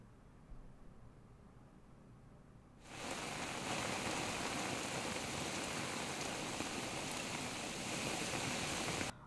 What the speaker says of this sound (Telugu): హైదరాబాద్లో దాదాపు 2 గంటల నుంచి కూడా వర్షాలు కురుస్తూనే ఉన్నాయి